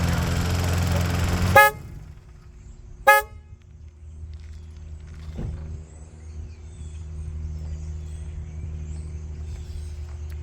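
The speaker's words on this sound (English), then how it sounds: "So I'll hit the horn" Two short horn blasts from a 2010 Toyota Camry, the first about a second and a half long and the second a quick toot, followed by quiet outdoor ambience.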